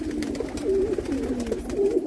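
Pigeons for sale in Jammu coo nearby, a brief run of soft, rolling low calls repeating over a light steady background.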